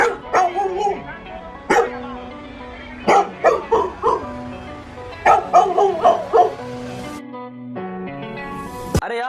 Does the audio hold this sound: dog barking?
yes